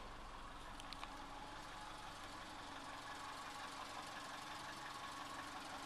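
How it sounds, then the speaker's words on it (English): A 2002 Subaru Legacy Outback's engine runs at idle with the hood open, a faint, steady low hum with a light regular knock and no voices. "I'm gonna pop the hood so you can actually hear it run"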